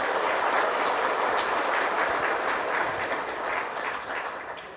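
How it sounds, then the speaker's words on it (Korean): Sustained applause from an audience at a fire industry promotion policy briefing in Korea, dense steady clapping filling the hall, loud and even, tapering slightly at the end. "따뜻한 박수 부탁드립니다"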